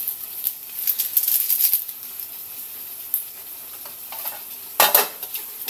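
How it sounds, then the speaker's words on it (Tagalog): Beef stock stirred in a pot, with soft bubbling and a faint hiss, scattered utensil scrapes and clinks, and a brief louder clatter near the end. "Haluin natin yung ating beef stock."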